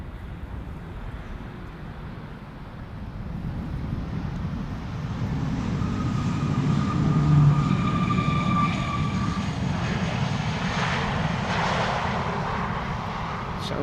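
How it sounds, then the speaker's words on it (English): A Corendon Boeing 737 MAX 8 rumbles in on approach at Schiphol Airport, a broad roar swelling louder over several seconds with a faint whining tone, then holding steady. "Our next airplane is a Corendon 737 MAX 8 arriving from Antalya"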